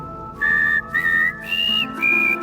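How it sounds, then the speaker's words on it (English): Someone whistles a short, wobbly tune of four uneven held notes, each wavering and off pitch, clear and close with no talking. "That's some awful whistling."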